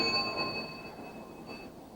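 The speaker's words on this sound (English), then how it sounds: "The bell invites me." A single tolling bell, a knell, sounds with a clear sustained ring that slowly fades over a couple of seconds.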